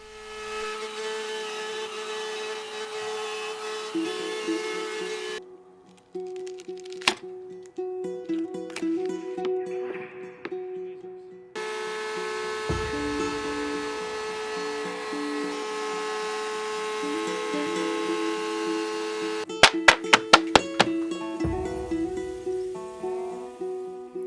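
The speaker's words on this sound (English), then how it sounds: "I cut them on the router table." A router table cuts wood pieces taped to a master template, giving bursts of high whirring motor noise with pauses between passes and a few sharp clicks near the end; no talking.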